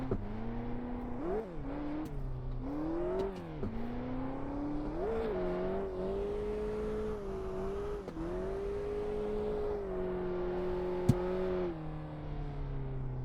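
Mazda Miata engine in the Assetto Corsa racing game, drifting through small sections: a continuous revving engine note rising and falling as it accelerates and slides, steady and fairly close, with no voices.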